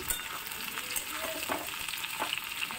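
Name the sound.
frying potatoes and garlic in a pan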